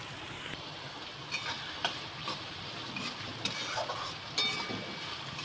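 Chopped onion fries in oil with a steady, soft hiss. Occasional light ticks and taps from a spoon against the pan are heard as it is stirred, close and low in level, with no one talking.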